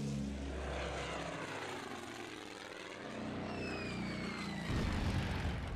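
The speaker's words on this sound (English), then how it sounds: "Aircraft are bombing our anti-air." Propeller aircraft drone overhead in a World War II strategy game, a steady engine roar with a rising whine and rumbling impacts near the end, fairly quiet overall.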